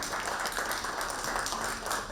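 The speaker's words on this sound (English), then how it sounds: "let's give a warm round of applause to welcome our guest to the dais." A conference audience claps to welcome a guest to the dais at a climate-smart water security session, a soft, diffuse wash of applause that stays even and somewhat distant over a couple of seconds.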